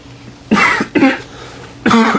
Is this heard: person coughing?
yes